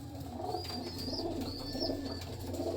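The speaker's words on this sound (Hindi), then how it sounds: "ये डब वाली कबूतरी है ये" Female breeder pigeon cooing softly in a loft, low gentle coos under a steady background hum, with a few thin chirps from other birds.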